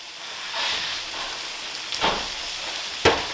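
Pineapple fried rice sizzles steadily in a hot pan with a cup of chopped pineapple, broken by a few scraping stirs and a sharp clatter of the spoon, close and unaccompanied by speech.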